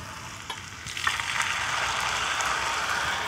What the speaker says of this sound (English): I'm going to add it to the pan and then add a little white wine